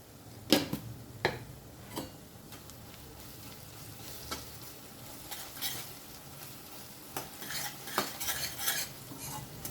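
Ginger garlic paste being stirred in a pan with a metal spoon for fish curry, a soft steady sizzle under repeated sharp scraping clinks against the pan, close and fairly loud.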